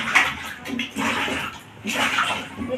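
Water pours into a cooking pot for parboiled-rice khichuri with vegetables and mixed lentils, a close, steady splashing gush that surges in waves.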